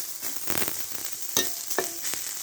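Chili peppers are dry-roasted in a pan for a Thai chili dip, giving a soft continuous crackle and sizzle broken by a few sharper scraping stirs, close and fairly quiet.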